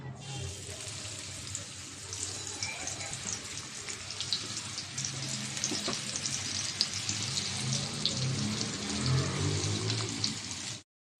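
Silver carp seasoned with salt, turmeric and chilli fries in hot oil in a pan, giving a steady, fairly loud sizzling hiss with scattered crackles that stops abruptly at the end.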